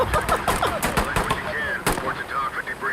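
Rapid bursts of automatic gunfire in a video game crack out in quick, uneven volleys, with voice-like sounds mixed underneath the shooting.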